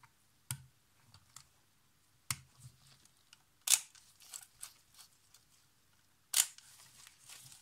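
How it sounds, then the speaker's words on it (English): A FED 2 rangefinder film camera firing its shutter, with four sharp, crisp mechanical clicks spaced a few seconds apart, close and clear, separated by faint winding and handling noises in a quiet room. "It has a nice shutter sound."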